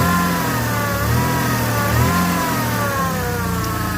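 The V6 engine of a 1987 Camaro runs steadily while its failing power steering pump gives off a continuous high whine, loud and close, with the pitch drifting slightly.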